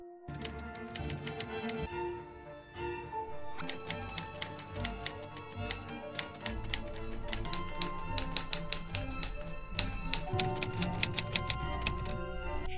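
A typewriter clatters as Jun types out a manuscript, giving a dense, rapid, continuous run of sharp keystrikes with occasional brief pauses, close and fairly loud.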